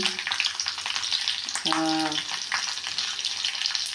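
Green chillies, mustard seeds and cumin fry in hot oil with a dense, steady sizzle and crackle, close by, and one brief harmonic squeak of a utensil partway through.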